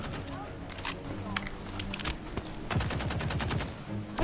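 Gunfire in the vampire shooter Redfall: rapid automatic bursts and single cracks crowd the scene while players chatter over the shooting.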